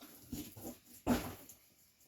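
A dog nearby makes a few short whimpering snorts, then one louder sharp vocal burst, with quiet gaps between.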